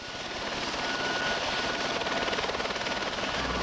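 Pennsylvania National Guard helicopter flying during the Hurricane Agnes flood, a steady, fairly loud rotor thrum with a rapid chopping pulse running throughout.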